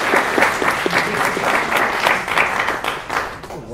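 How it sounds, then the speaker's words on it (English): Audience applause for a guest at a Q&A event, a dense steady patter of clapping from a small crowd that thins slightly toward the end, with no speech over it. "applause for Miles."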